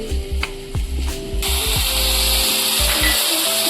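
Spices frying in hot mustard oil for a Bengali buwal fish curry, starting with a few clinks and taps, then breaking into a loud, steady, close sizzle that holds to the end.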